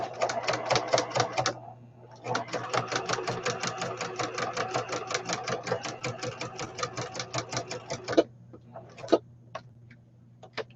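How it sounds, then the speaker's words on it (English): A sewing machine runs a straight top stitch along a folded edge, a fast steady mechanical chatter with two short pauses, then a few isolated needle strokes at the end. "I'm going to stitch on one side"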